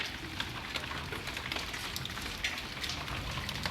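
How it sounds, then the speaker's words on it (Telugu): Hailstones fall in Rajasthan, a dense pattering of small hard pellets striking surfaces, a continuous rattling downpour with scattered sharper ticks, close and fairly loud. "ఈ వడగండ్లు అంటారు కదా, వడగండ్లు పడుతున్నాయి అనమాట"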